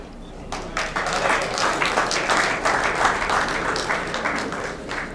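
A crowd at a 1993 US Open 9-Ball Championship pool match applauds Johnny Archer, with dense, steady clapping that builds quickly and holds loud throughout.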